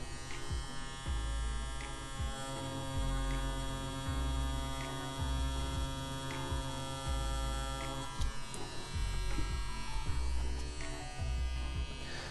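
A CNC CW2 wireless rotary tattoo machine runs steadily while inking a line, giving a continuous close electric buzz and hum with slight fluctuations in pitch, alone without talk.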